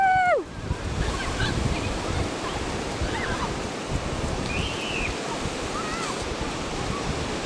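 Ocean waves wash steadily onto a sunny Cornwall beach, a broad continuous surf roar with gusty wind buffeting the microphone, and a few faint distant bird calls over it.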